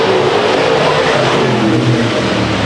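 IMCA Modified race cars roar past at Chowchilla Raceway during a heat race, a loud, sustained engine drone with a slowly shifting pitch as the cars pass close by.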